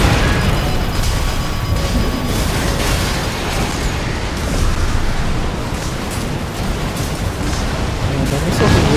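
Dense, continuous booming missile explosions from the mech game Armored Core 6 roar loud and close, merging into a thick wall of blasts.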